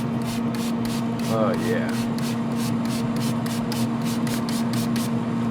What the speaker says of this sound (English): I got some Martinelli's apple juice. Just want to spritz it on there and keep it moist.